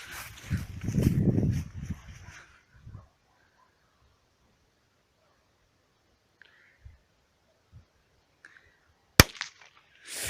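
A Kometa Super Corsairs piccolo-type small firecracker goes off with one sharp, loud, close bang near the end, after a long quiet stretch that opens with talking and a few faint ticks and rustles.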